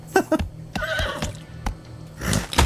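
A horse neigh sound effect in a Lotto Max lottery ad during a basketball broadcast gives a short, loud whinny amid close, punchy ad sounds.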